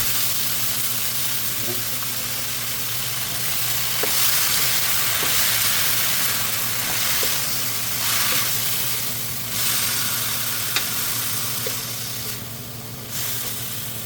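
Marinated pork for menudo frying in a pan, a steady loud hiss of sizzling oil with occasional soft clicks of stirring throughout.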